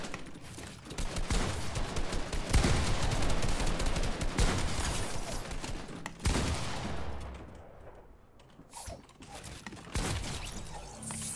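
Rapid bursts of video game gunfire in a Fortnite Creative box fight, dense clattering shots with mechanical reload and building sounds, loud and continuous with brief lulls.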